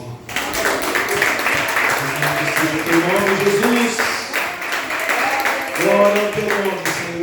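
A church congregation applauds during an evening celebration service, with steady clapping running throughout beneath someone speaking and what sounds like sung or sustained voices.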